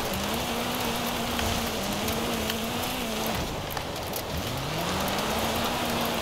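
Rain pattering steadily in a car drifting video game, a dense hiss of falling rain over a low, wavering engine drone from a Toyota Corolla hatchback drift car, no voices.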